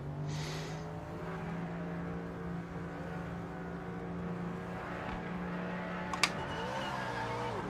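Race cars in the sim racing game Project Motor Racing launch from a standing start, with sustained engine drones climbing in pitch and a brief sharp click before the revs swell again near the end.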